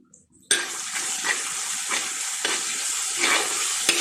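Ginger and garlic sautéing in oil in a pan alongside tomato, a steady close sizzle with scraping stir strokes starting abruptly after a brief quiet moment.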